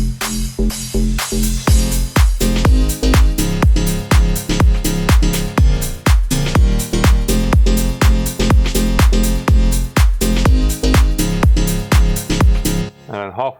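A house music drop with a steady four-on-the-floor kick, bass and synths, and a crash cymbal panned to the right, running loud and continuous for most of the passage before cutting off near the end.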